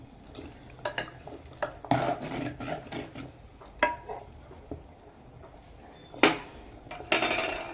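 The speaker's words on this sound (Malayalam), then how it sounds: "നല്ല പോലെ ഒന്ന് ഇളക്കി യോജിപ്പിച്ച് കൊടുക്കാം" Cooked mango and cucumber being stirred in a clay pot for pulissery, a spoon scraping and knocking against the pot in irregular close strokes, with a few sharper clinks near the end.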